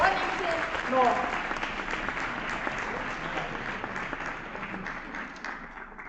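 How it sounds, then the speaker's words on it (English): Audience applause at the Legae Academy 2022 award ceremony, greeting a Member of Parliament: a dense, steady wash of many hands clapping that holds for several seconds and tapers slightly toward the end. "A massive round of applause, ladies and gentlemen, to our Member of Parliament for Bonington North."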